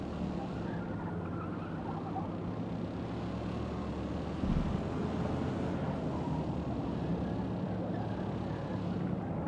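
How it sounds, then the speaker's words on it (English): Steady broadband wind rush while driving in Gran Turismo 7, a continuous loud whoosh layered over low road and tire rumble with a quiet engine, unbroken throughout with a slight surge midway. "And there's like a wind noise,"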